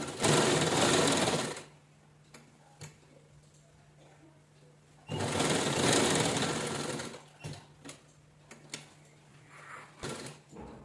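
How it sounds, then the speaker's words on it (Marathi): A sewing machine stitches old shirt fabric in two loud close runs of rapid whirring and ticking, separated by a quieter pause with a steady hum and a few scattered clicks. "आता आपण स्टिच करून घेऊया."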